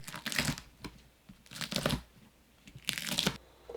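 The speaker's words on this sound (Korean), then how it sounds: "청양고추 8개를 썰어주세요." Cheongyang chili peppers, eight of them, sliced with a knife on a cutting board in a home kitchen, heard as a few quiet bursts of crisp crunching chops with short pauses between them.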